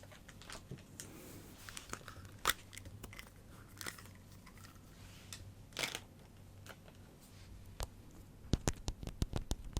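Sharp taps on a hard stone souvenir ring out, scattered at first, then a quick cluster of several knocks near the end, close and fairly quiet.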